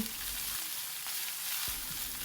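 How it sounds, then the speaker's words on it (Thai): Chicken giblets stir-fried with lemongrass and chili in hot oil give a steady close sizzle and crackle throughout, with a few sharper spatters and light stirring scrapes and no talking. "อันนี้เราก็ผัดให้หอมฟุ้งเลย"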